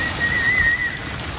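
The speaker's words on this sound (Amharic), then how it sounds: "ልጆቹ እዚህ ጋር እየተሯሯጡ ነው ዝናብ ዘነበልን ብሎ በደስታ" Steady rain falls in a place where rain is rare, with children running about happily; a continuous broadband hiss carries a faint, thin whistle-like tone through most of it, and no one speaks.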